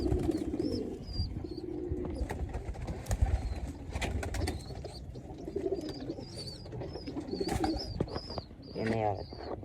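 Pigeons coo in repeated low, throaty calls close by, mixed with rustling and soft knocks while people talk in the background.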